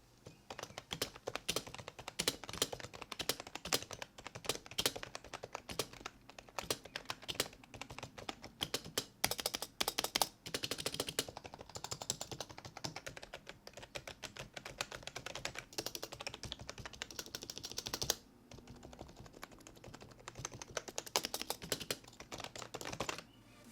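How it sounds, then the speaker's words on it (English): Continuous, fairly quiet clicking of keys being typed rapidly on a Cougar Deathfire EX budget keyboard with hybrid switches, an irregular stream of soft taps with short pauses, heard alone. "As for the sound of the keys, they are a bit more on the quieter side"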